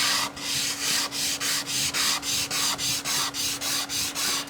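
Charcoal rubbed hard across drawing paper with sandpaper beneath for a textured relief, a steady series of rhythmic scratchy strokes, about a dozen back-and-forth rubs, close and clear with no talking.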